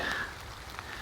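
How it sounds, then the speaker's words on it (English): Steady rain patters softly on a surface outdoors in a field where cows are kept, a quiet, continuous hiss of drops with no voices. "It's raining, I'm getting wet, she's getting wet."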